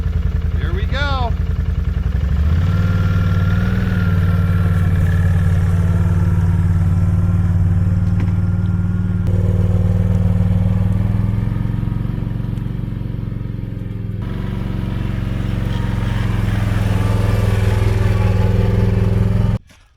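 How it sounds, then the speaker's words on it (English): An ATV four-wheeler unrolls an electric fence wire spool outdoors. Its engine holds a loud, steady, low idling drone for the whole stretch, then cuts off abruptly at the end. "unrolling that spool on the four-wheeler worked out pretty good"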